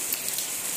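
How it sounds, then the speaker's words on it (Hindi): Moderate rain falls steadily outside, a constant close hiss of drops striking surfaces with no voices over it. "लेकिन हो रही है, अच्छी वाली बारिश हो रही है"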